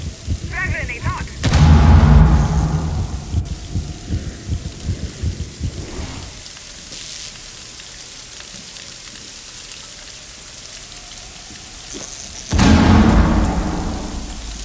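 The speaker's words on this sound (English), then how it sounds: "Frag grenade hot." A frag grenade detonates in Rainbow Six Siege on the Bank map, giving a loud, sharp blast with a rumbling tail; a second heavy boom follows about ten seconds later, with a voice briefly heard near the start.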